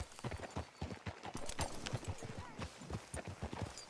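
Rhythmic clip-clop of horse hooves on a hard surface in the video game Red Dead Redemption 2, steady and moderately close, continuing throughout with no talking.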